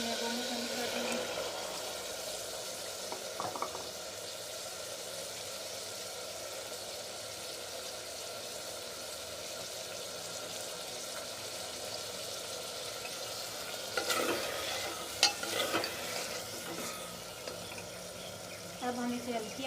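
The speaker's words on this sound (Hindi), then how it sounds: "अब इसमें आलू जो है वो मैं शामिल कर दूँगी।" Potatoes fry and are stirred in a pan for a potato and egg dish, giving a faint steady sizzle with occasional clatters of stirring and a few soft bursts.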